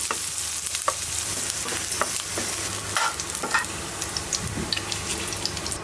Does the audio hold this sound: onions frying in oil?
yes